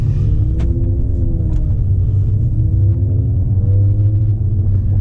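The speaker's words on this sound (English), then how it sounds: "let's go for a little drive. Let's see how the car feels." A car engine hums steadily with a low rumble as the vehicle drives along, loud and continuous, with no talking.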